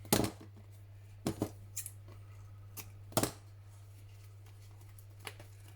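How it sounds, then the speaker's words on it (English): A few sharp scissor snips cut through paper at irregular intervals against a quiet background with a low hum. "Okay, trim this off."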